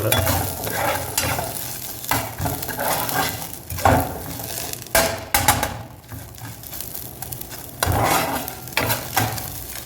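Chettinad beef gravy masala frying in a pan, with repeated stirring scrapes and clatters over a steady sizzle, close and fairly loud, no talking.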